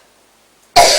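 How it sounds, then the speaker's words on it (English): A single sharp, loud cough bursts out after a second of near silence, someone choking on a lolly. "Please don't choke on your lolly."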